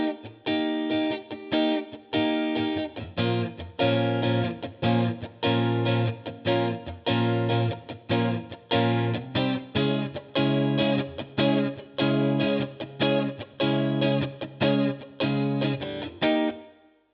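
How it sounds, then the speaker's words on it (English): Soul-style guitar plays the bridge of a song with a slightly driven, chorused tone. Punchy chord hits and short riffs repeat in a tight, evenly pulsing rhythm for the whole passage, with no talking. "So the bridge plays after the second chorus and sounds something like this."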